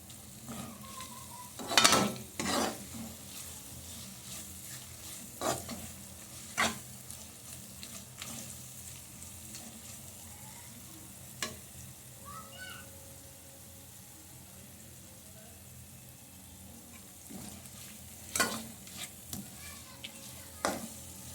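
Spoon or spatula stirring mango pulihora (tangy rice with raw mango) in a pan, producing soft scraping and scattered clinks with a faint sizzle beneath, in intermittent bursts with quiet gaps between.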